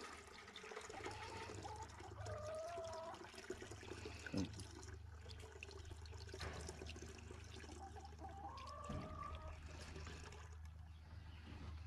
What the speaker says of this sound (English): A lot of times I just do it over the sink. But yeah, just strain out any particles.